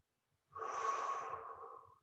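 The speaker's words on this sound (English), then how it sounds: "take a deep breath in" A single deep breath drawn in through the nose during a strength and flexibility workout session, close and clear, rising quickly and holding for about a second and a half before fading.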